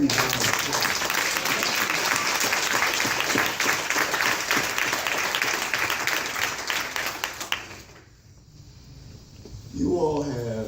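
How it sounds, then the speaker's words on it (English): A church congregation breaks into sustained applause, a dense wash of clapping that holds for several seconds before fading out, then a voice begins speaking. "church, I think we owe them a huge round of applause"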